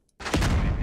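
A sharp burst of gunfire from a vehicle weapon in the video game Squad cracks in after a brief silence, followed by a rolling, booming rumble that sustains loudly to the end.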